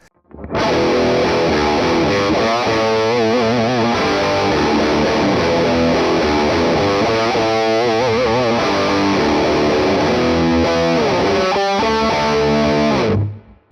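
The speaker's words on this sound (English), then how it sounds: "you can get some really cool retro style 70s tones as well" Retro 70s-style distorted electric guitar tone through the Morgan Amps Suite amp plugin by Neural DSP, loud riffing chords and sustained notes playing alone for about thirteen seconds before cutting off.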